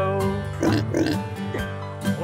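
A sung pig oink from a children's Old MacDonald nursery song, a voice imitating the pig in rhythmic oinks over bright musical accompaniment, loud and close.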